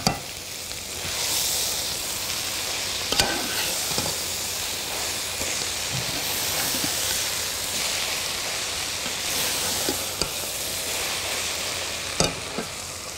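Spinach sautéing in a hot pan gives a loud, continuous sizzle and hiss, broken by a few sharp scrapes and clicks as it is stirred.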